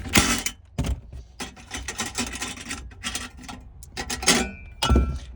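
Ratchet work on a Toyota Avalon's two 10 mm bolts during hybrid battery replacement: a quick run of clicking, ticking strokes with metallic clinks, close and moderately loud, no voices.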